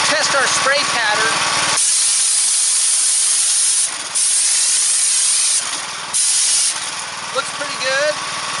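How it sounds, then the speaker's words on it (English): A steady, loud hissing spray from a standard spray hopper runs in bursts, cutting off briefly twice, with a motor humming underneath and a voice murmuring at the edges. "We can test our spray pattern."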